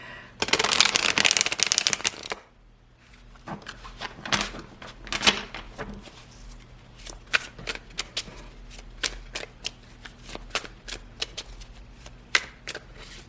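Tarot cards riffled in a dense burst, then a run of quick, crisp card snaps and flicks being laid out, close and clear.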